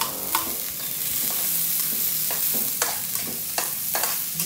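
Quail adobo in the Lubao style fries in a pan. A steady, crackling sizzle runs throughout, with sharp spitting pops and the scrape of stirring close by.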